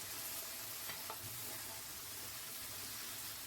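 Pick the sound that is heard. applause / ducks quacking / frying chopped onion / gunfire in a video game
frying chopped onion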